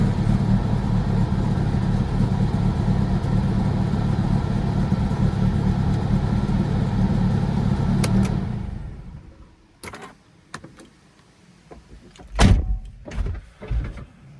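The idling engine of a Mercedes CLK200 (C209) rumbles unevenly, misfiring from an unmetered air leak, for several seconds, then cuts off, followed by a few clunks and thumps nearby.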